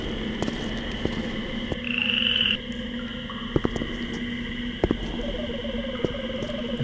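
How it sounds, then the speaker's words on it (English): Frog croaking sound effect from The Journeyman Project 2: Buried in Time video game, a repeated looping croak over a steady chirping ambience, with a brief rising tone midway and sharp clicks, no voices. "I feel like I've heard that frog sound effect before"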